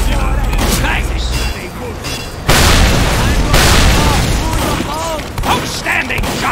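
Bursts of gunfire and explosive booms from a Team Fortress 2 style shooter match, loud and repeated in clusters, with in-game voice lines talking over the action.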